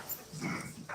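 A happy puppy gives a short, soft whimper, close by and faint, in a brief moment with no talking.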